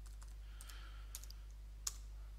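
A computer keyboard is typed on to enter a school login. Sparse, faint key clicks come through with a couple of sharper taps over a quiet room hum, and no voices.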